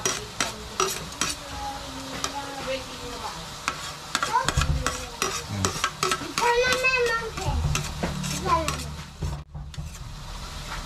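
Onions sautéing in a pan for papaitan, a steady sizzle with stirring scrapes and clinks, while a voice speaks over it in places.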